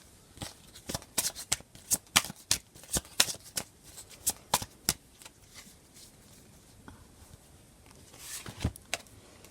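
Tarot cards being shuffled: a run of crisp, rapid riffling slaps, loud and close, that thins out in the middle and returns in a short final burst.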